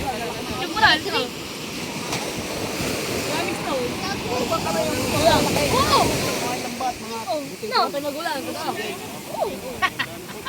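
Rushing water at high tide at night, a steady broad wash of surf and flow, with people talking over it throughout.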